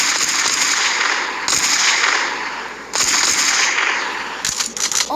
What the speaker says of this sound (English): There are new sounds with the guns.